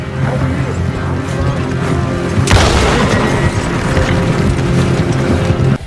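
A gunshot in the Red Dead Redemption 2 video game, a sudden loud boom over a dense, continuous rumbling game soundscape, followed by a long echoing tail.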